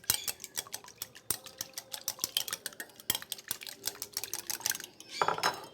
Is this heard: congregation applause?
no